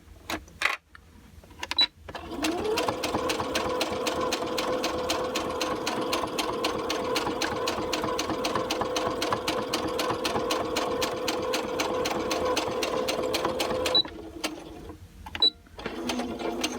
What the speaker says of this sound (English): I'm going to stitch as far over and across my seam